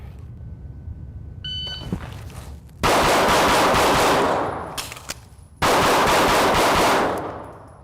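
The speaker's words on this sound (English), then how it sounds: "2 shots on each, and I'll just add a reload and engage each of the targets one more time." Rapid pistol gunfire from a CCW handgun with a red dot sight on a live fire range, two long loud strings of fast shots separated by a brief pause for a reload, preceded by a few electronic beeps.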